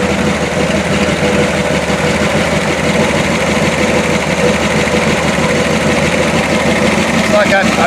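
Close, loud and even idle of a 1969 Corvette Stingray rumbling through its exhaust pipes, a constant throb with someone talking over it.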